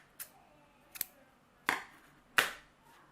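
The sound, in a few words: scissors cutting crochet yarn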